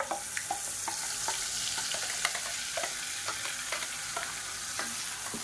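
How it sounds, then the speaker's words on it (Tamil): Mustard seeds and curry leaves spluttering in hot oil for a chutney tempering, a steady crackling fry with frequent sharp pops and stirring close by, no voices. "இப்போ பாருங்கள், கடுகு கருவேப்பிலை நல்லா பொரிய ஆரம்பிச்சிருச்சு"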